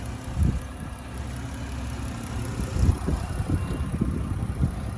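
A 2019 Dodge Grand Caravan SXT with a 3.6 liter engine idles steadily, a low, even rumble with a few soft surges, heard close and alone with no talking.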